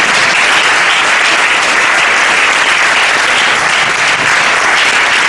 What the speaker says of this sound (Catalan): m'agradaria que féssim un aplaudiment al Ramon